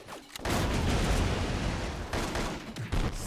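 Grenade blasts in the action game Total Overdose, a sudden loud burst after a brief quiet start that becomes a long roaring rumble of explosions and debris, with a few fresh booms near the end.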